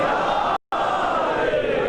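A large crowd at a Muharram majlis loudly shouts the Naara-e-Haidari slogan in unison, a dense roar of voices broken by a brief moment of silence.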